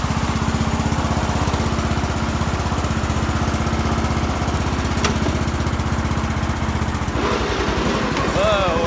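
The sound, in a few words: racing lawnmower engine running, tires spinning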